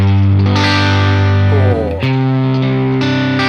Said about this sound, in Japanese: フェンダーのアンプがいっぱいこのベースを上げた時のブーミーな感じがちゃんとね出てるのよ